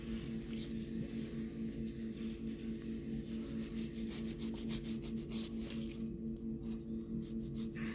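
A file rubs back and forth along the free edges of a fingernail, a soft continuous scratchy rasp with quick repeated strokes, close and quiet over a constant low hum.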